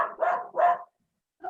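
A dog gives three quick, fairly close barks in a row, then falls silent before a fourth bark starts at the end; nobody talks over it.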